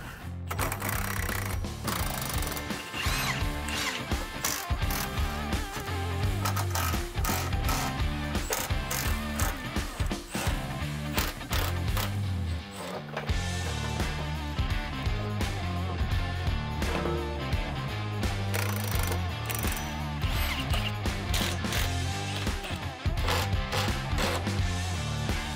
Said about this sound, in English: So now we're gonna go ahead and remove the step bars we have on there now in preparation for our new ones.